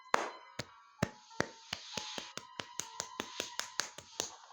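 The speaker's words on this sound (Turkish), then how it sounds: "Alkışlar." A single person claps hands in a steady, evenly spaced rhythm, about a dozen sharp close claps over a few seconds, accompanied by a faint background tone.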